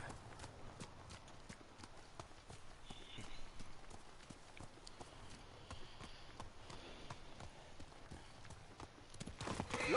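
Horse hooves clip-clopping at a steady trot in the samurai video game Ghost of Tsushima, a continuous rhythmic patter of hoofbeats close by with outdoor ambience beneath.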